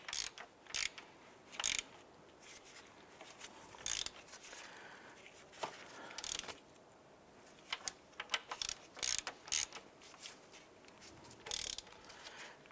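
A ratchet clicks in quick bursts while tightening the water pump bolts on a 2011-2019 Ford Fiesta, with short runs of sharp metallic ticks separated by brief pauses, close and clear with no talking.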